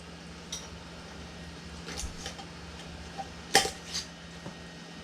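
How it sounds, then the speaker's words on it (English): Metal canning jar lids lifted one at a time from a pot during home tomato canning, producing a few sparse, faint clinks and taps against a quiet kitchen background. "Take one lid out at a time."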